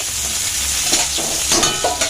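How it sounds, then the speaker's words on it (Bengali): Small chopped brinjal pieces fry in hot oil in a kadai over low heat, giving a steady close sizzle with occasional stirring scrapes, no voices. "কড়াতে তেল দিয়ে দিয়েছি বেগুনটা প্রথমে দিয়ে দেবো"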